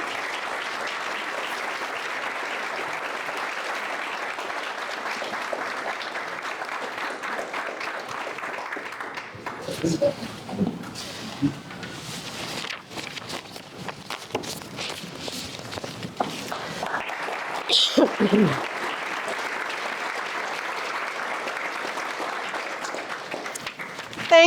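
An audience claps through a medal ceremony for the King Charles III Coronation Medal in North Vancouver. Steady applause fills the room, and there is a break in the middle with footsteps and shuffling before the clapping picks up again.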